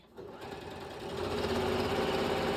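A sewing machine stitches quarter-inch seams through fabric backed with ironed-on Pellon stabilizer, its motor ramping up quickly into a loud, steady, close whirring hum.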